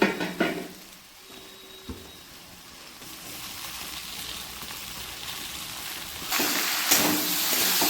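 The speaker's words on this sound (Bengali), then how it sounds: "এখন আমি এই সবটা মশলা দিয়ে দেবো মধ্যে দিয়ে এটাকে একটু কষিয়ে নেব" Spice masala is sautéed in oil for a mixed vegetable curry, a soft crackling sizzle with a few stirring scrapes, fading quieter in the middle and then swelling louder and busier toward the end.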